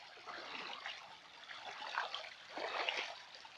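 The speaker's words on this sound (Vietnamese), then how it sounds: "Nó nước chảy róc rách này." Shallow countryside stream trickling and babbling over stones, a soft, steady, gentle water sound heard faintly and alone.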